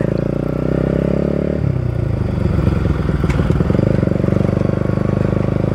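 A Pulsar NS200 motorcycle fitted with an Akrapovic exhaust runs close and loud, its deep, throbbing engine note shifting pitch partway through as the revs change and then holding a steady, rumbling pulse.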